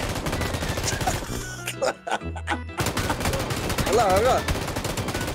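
Dense bursts of automatic gunfire from the PUBG battle royale game crackle loudly throughout, with a short lull in the middle, while a player speaks briefly over the shooting.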